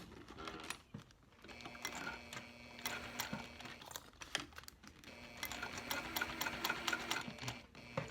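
A sewing machine stitches the straps of a mini box tote, with a couple of back stitches over the strap anchors; steady rapid needle chatter runs in bursts with brief pauses and small handling clicks, close and fairly quiet.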